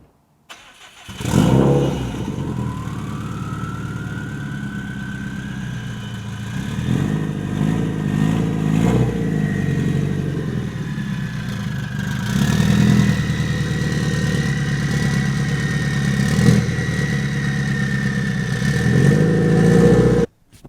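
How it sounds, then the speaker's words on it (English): A car engine starts and idles, then revs and rumbles steadily as the car is driven onto a trailer, loud and close, with rising pitch during short throttle pushes and no talking. "it is time to take the car onto the trailer"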